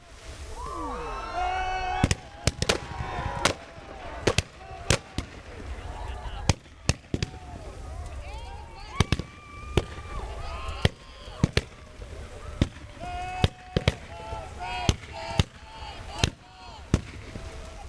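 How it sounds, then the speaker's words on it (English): Fireworks burst at a park fountain celebration, sharp bangs and crackles popping irregularly at varying distances over about eighteen seconds, with whistling rockets and crowd noise between them. "the night wraps up with fireworks at the Bayless Park Fountain"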